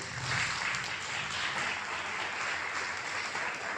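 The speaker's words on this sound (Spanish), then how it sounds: "Vamos a darle un aplauso por eso" A church congregation applauds steadily for a few seconds, a dense, even wash of clapping heard at a moderate distance with no voices on top.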